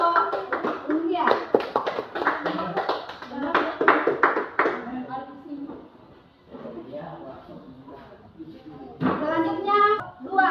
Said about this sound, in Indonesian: kita berikan aplaus untuk penampilan dari kelompok yang satu, kelompok India